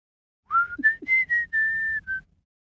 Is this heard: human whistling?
yes